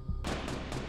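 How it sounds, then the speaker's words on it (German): Gunfire in a video game bursts in suddenly after a brief quiet moment, a harsh, sustained crackle of shots pulsing a few times within a second. "Oh Gott, es gibt Schüsse."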